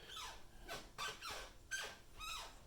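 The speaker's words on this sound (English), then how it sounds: "give you an idea as far as the squeak itself." A wooden floor creaks underfoot in four slow, sliding squeaks, spaced roughly half a second apart, quiet and alone.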